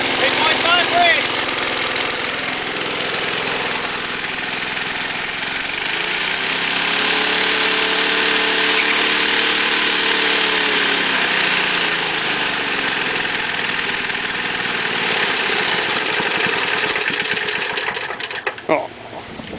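A Briggs & Stratton 3.5 engine on an MTD Panzer tiller idles steadily at a low, rough, even chug, close and continuous, settling lower partway through as it warms.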